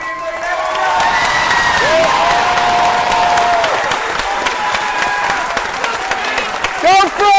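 A studio audience applauds and cheers for a contestant on the game show Who Wants to Be a Millionaire, with sustained clapping and scattered whoops filling the room and a brief louder swell near the end.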